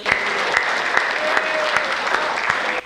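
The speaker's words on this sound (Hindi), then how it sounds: "हद हो गई है पागलपन की ताली जरा बजाओ" A crowd at a Hindi comedy poetry gathering applauding steadily and loudly for a few seconds, dense clapping that stops abruptly at the end.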